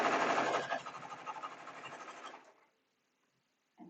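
Sewing machine stitching fabric for a homemade shopping bag, running loud and steady up close for about two and a half seconds before stopping, then a faint click.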